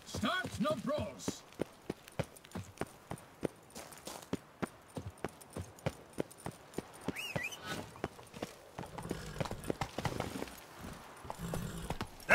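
Horse hooves clip-clop in a steady walking rhythm, close and clear, as Geralt's horse Roach trots along in The Witcher 3: Blood and Wine; someone speaks over the hoofbeats partway through.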